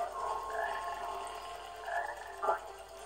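Black frogs croak in the forest stage of the Sonic Heroes video game, a few throaty calls over a steady game background, with one sharper croak near the end.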